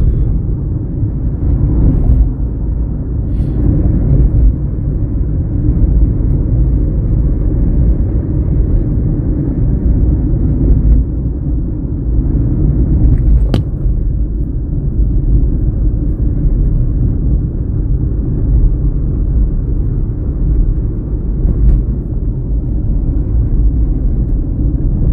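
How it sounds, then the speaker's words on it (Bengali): A car driven during a driving lesson on the road, a steady low engine and road rumble heard from inside the cabin, with a few faint clicks and a sharp tick midway. "ভদ্রলোক ড্রাইভ করছেন"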